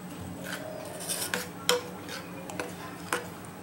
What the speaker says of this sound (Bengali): পাউডার দুধটা আস্তে আস্তে এখানে মিশিয়ে দিচ্ছি